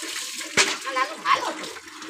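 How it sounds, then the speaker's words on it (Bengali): Water splashes and pours during a child's bath, with a sharp splash early on and a second burst of water shortly after, close by and mixed with voices talking over it. "লালো ভদ্র ছেলের মতো স্নান কর"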